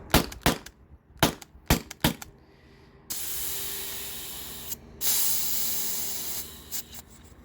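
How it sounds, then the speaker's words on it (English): A T4E TR68 CO2 pistol dry fired: a few sharp, close snapping clicks, then a long sustained hiss of escaping gas that briefly cuts out and resumes. "I'm pretty sure that's all the rounds, so I'm just gonna dry fire 5."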